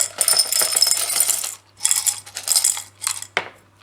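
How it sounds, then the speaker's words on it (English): Gravel poured into a vase, giving bursts of bright clinking and rattling stones in several separate pours with short pauses between, close and fairly loud over a faint steady hum. "I pour the gravel in there at the base."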